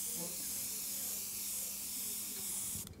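A SprayCraft SP50 dual-action airbrush spraying ink for fine detail work, a steady close airy hiss running unbroken for about three seconds before cutting off abruptly at the end.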